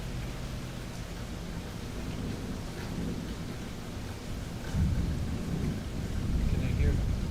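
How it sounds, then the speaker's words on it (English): Thunderstorm in Fort Lauderdale, with a steady hiss of rain and a deep low rumble of thunder that swells louder toward the end. "Guys, do you hear the thunder?"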